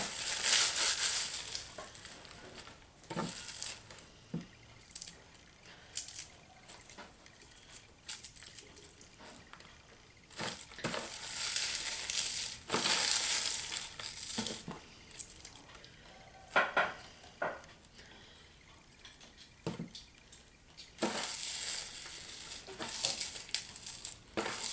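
Dried sage leaves are crushed by hand into rubbed sage, giving close, soft crackling and crumbling bursts that come and go in irregular bunches with quiet gaps between.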